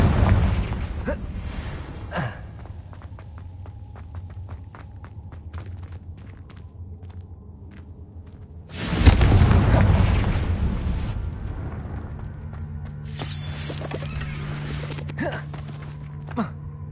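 Confringo fire-blast spell explosions in Hogwarts Legacy, a big roaring burst midway with other booms and crackles around it over a low rumbling game ambience.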